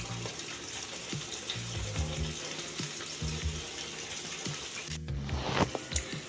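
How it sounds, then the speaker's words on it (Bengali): Fish simmering in spiced water in a pan over a low gas flame, a soft continuous bubbling sizzle with faint clinks and a brief rustle near the end, quiet and close. "এখন আমি এক এক করে মাছগুলো সাজিয়ে দিয়ে দিচ্ছি।"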